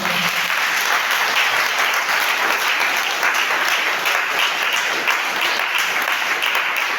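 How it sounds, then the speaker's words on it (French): A church congregation applauds and cheers for the Lord, a dense, loud, steady wash of clapping that holds for several seconds without letting up. "Tu peux acclamer pour le Seigneur"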